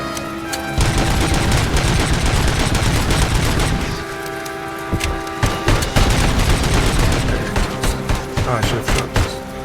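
Gunfire in the Robocop Rogue City video game comes as rapid, loud bursts of automatic shots with a boom, then scattered single shots, and a player talks intermittently.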